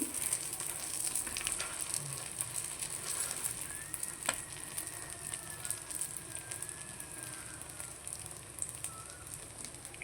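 Eggplant pieces frying in oil in a pan, a constant fine sizzle and crackle at a moderate level with light stirring, steady throughout and without speech.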